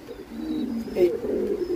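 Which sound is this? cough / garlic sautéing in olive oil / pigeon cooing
pigeon cooing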